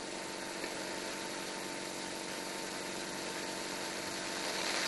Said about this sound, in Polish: Silnik spawarki uruchamia się za pomocą przełącznika gwiazda trójkąt.